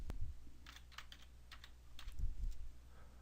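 Several quick keystrokes on a computer keyboard as a new password is entered, a few light clicks in small clusters over low background hum.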